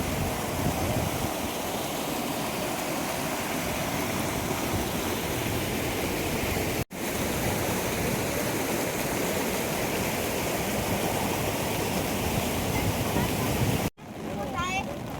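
Loud, continuous roar of the rain-flooded Kalu River rushing past, a broad steady noise close by with brief cuts, and no clear talking.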